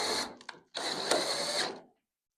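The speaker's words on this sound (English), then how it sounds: "I'm going to put my screws back in." Power driver running screws back into a first-generation Pontiac Firebird firewall, two short mechanical whirring bursts, the second longer, close and moderately loud with no talking.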